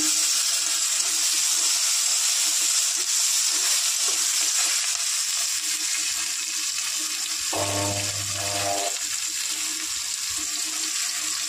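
Panch phoron and green chillies fry in white oil, making a steady, close sizzle that runs the whole time, with a short low hum rising under it midway.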